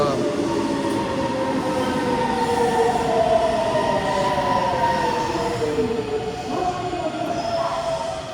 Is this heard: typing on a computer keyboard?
no